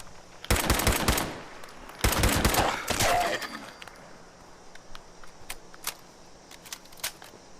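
Bursts of automatic gunfire aimed at ghouls at a Red Rocket station in Fallout 76, two loud rapid volleys near the start followed by scattered single shots that fade in the background.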